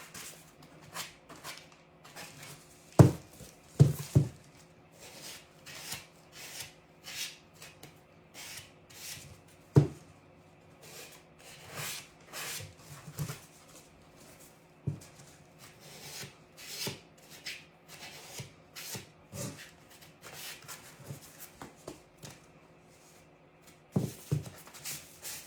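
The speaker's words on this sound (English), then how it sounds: "I'm gonna sand these little pieces that are the spots where the pumpkin goes together" Small craft pumpkin pieces are sanded by hand at their joining spots, giving a soft, rapid rasping rub in rhythmic strokes with occasional louder taps, up close and faint, with no talking.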